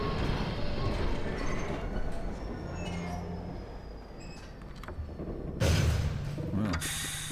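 Steady low rumble of a train riding along rails in Half-Life 2, rolling continuously with faint clanks and a louder metallic burst near the end, no speech over it.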